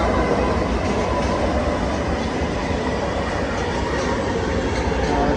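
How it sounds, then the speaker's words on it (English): Express train passing through Mineola station on the Long Island Rail Road, a loud continuous rumble and rattle of railcars rolling by close up, with faint clickety-clack and no speech. "There's a train coming from over there."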